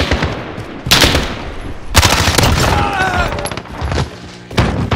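Bursts of automatic gunfire from Call of Duty: Modern Warfare multiplayer, loud and close, in several rapid volleys broken by short pauses, with faint in-game voice and effects mixed underneath.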